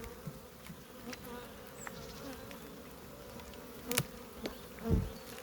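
Honeybee swarm settled in a trap hive, a soft steady buzz of many bees with a few louder individual passes close by and faint knocks of hive parts.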